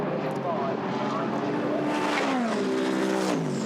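A Ferrari GT race car in the Blancpain Endurance Series sweeps past on the Silverstone circuit, its engine note loud and rising and falling as it passes, under a commentator's voice.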